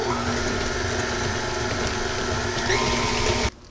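Electric mixer beating an egg into cookie dough, a steady close mechanical whir with a faint rattle that runs continuously, then cuts off abruptly near the end.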